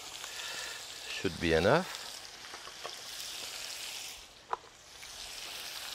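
Steak frying in a pan with scallions nearby, a steady close sizzle running throughout beneath a brief spoken remark.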